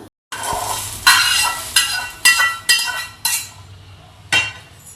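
Dry whole spices for vangi bath powder rattle and scrape in a pan as a utensil stirs, with several sharp clinks of metal against the pan at irregular intervals.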